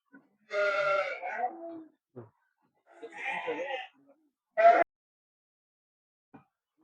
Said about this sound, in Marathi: हे गावरान कोंबड्यांचं पालन केले आपण खाली